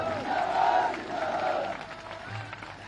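A crowd claps at an outdoor political rally in Jakhauna, Sumawali constituency, Morena district, with a broad, moderately loud patter that swells and then eases slightly toward the end.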